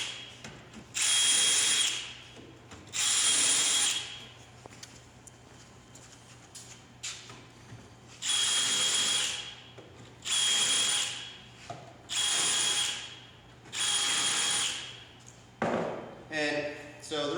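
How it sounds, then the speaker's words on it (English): A power drill bores holes into an upper kitchen cabinet during assembly, whirring loudly in about seven separate bursts of a second or so each, with brief pauses between them. "Go ahead and drill your holes again."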